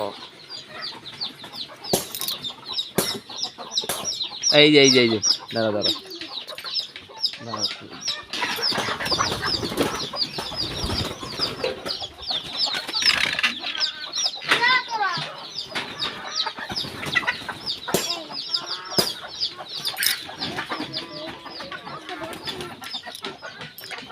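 Hens and chickens are released from their coop in the morning and cluck and squawk in overlapping bursts nearby. People talk and call out over the birds.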